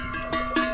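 A cowbell on a cow clanks twice in quick succession with a bright metallic ring, close and moderately loud in an outdoor mountain setting.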